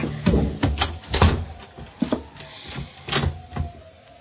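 A closet door thuds shut amid a run of knocks and bumps, several sharp close impacts spread over a few seconds in a quiet room.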